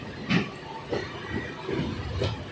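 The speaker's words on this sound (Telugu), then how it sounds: "మనకు అక్కడ మెమో ట్రైన్ కూడా ఉంది" A MEMU train at the Rajahmundry car shed rolls past, its wheels knocking in a loose repeating rhythm of muffled thumps, moderately close with a faint high whine above.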